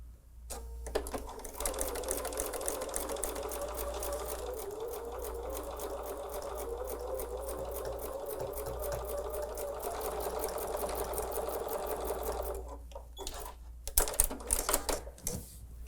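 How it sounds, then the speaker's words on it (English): A sewing machine stitches pieces of a Christmas quilt together in a fast, even run of needle strokes that lasts about twelve seconds. After it stops, a few quieter clicks and short bursts follow. "So let's sew that together."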